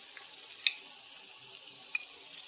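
Vegetables such as carrot and red capsicum frying in a pan with cumin and onion for a jowar egg dhirde, a soft steady sizzle with a couple of sharp utensil clicks, no talk.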